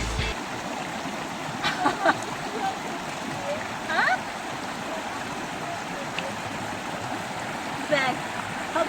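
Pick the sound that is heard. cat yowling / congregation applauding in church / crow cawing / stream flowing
stream flowing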